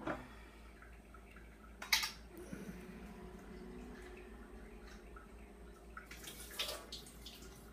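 Germinating seeds rinsed with water in a dish, faint scattered drips and trickles, a couple of brief splashing pours and clinks of the container against a quiet background.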